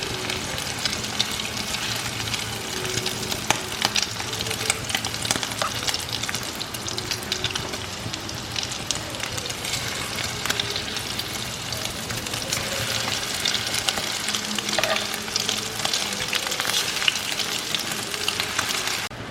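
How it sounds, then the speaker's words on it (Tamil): Tofu pan-fries in oil with a steady, close, dense crackling sizzle that stays loud and continuous throughout, with no talking. "இப்போ அடிப்பக்கம் நல்லா கோல்டனாக ஆகிற வரைக்கும் அதை ஃப்ரை பண்ணி எடுங்க"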